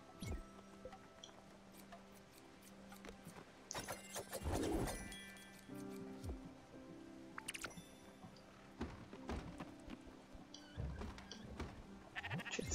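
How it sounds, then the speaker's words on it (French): Sheep bleating in the video game Spiritfarer, several short bleats rising over a farm soundscape with game thuds, clicks and soft chimes, a louder burst of bleating a third of the way through and scattered taps around it. "Mes moutons doivent avoir faim."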